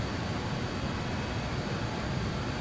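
Steady broadband whoosh of a regional jet flying on autopilot in Microsoft Flight Simulator, a constant cabin-like engine and airflow drone with no variation.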